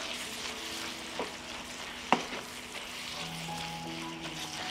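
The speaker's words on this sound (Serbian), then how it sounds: "Promešat ću i propržit ću još 2 minuta." Meat with chopped bacon sizzles in a pan under a steady hiss, broken by a couple of light scrapes and one sharp spoon clink, close and without talk.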